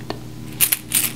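In a quiet ASMR cranial nerve exam, a small handheld shaker tool gives a few short, soft rattling shakes close to the ear, a faint tick followed by two quick bursts.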